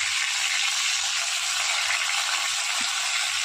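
Fish sizzles in a pan of hot oil, an even, dense crackling hiss that stays close and constant.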